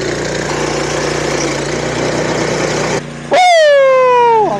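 An engine driving a backyard snowboard tow rope idles with a steady rumble, then a loud rising whine sweeps up sharply and holds, close by and with no talk.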